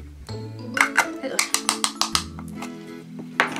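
A jar of Cover Stay loose powder is tapped against its plastic lid. Some eight light, clicking knocks come in a quick, even rhythm, close by, while someone talks alongside.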